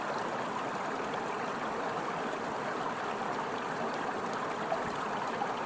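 A glacier-fed mountain stream between Ashuu-Tor and Kichi-Tor rushes steadily, a constant broadband wash of flowing water with no voices.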